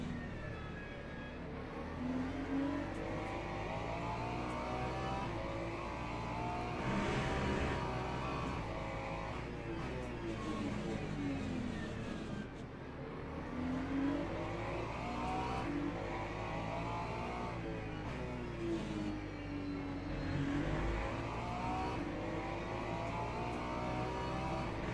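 Several race cars compete around the Algarve circuit in a racing video game, with loud, continuous engine whine that repeatedly climbs and drops through gear changes as the cars accelerate and brake, and no one talks.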